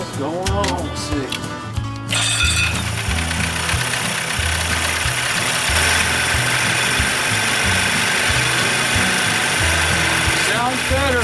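An Evinrude 40 outboard motor is cranked and catches, then settles into a loud, steady running drone with a buzzing mechanical whine, close by. Voices are heard briefly near the start and the end.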